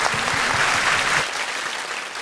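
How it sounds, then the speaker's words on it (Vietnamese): Audience applause at a live Vietnamese comedy stage show, a dense steady wash of clapping that holds strong and then thins slightly toward the end. "Vỗ tay cho tụi em cái đi, tụi em tốt quá."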